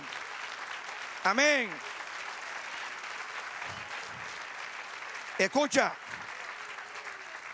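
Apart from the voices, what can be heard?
congregation applauding in church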